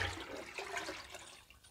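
Water poured into a gram flour mixture for kadhi, a brief soft splashing and trickling that fades out over a couple of seconds, faint and close, with no talking.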